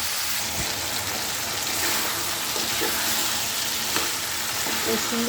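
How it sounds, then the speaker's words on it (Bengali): Vegetables sautéing with spices in a pan for an egg-based dish, a loud, dense, rain-like sizzle with a few stirring scrapes, close up and steady. "মশলার সাথে ভালো করে কষিয়ে নেব।"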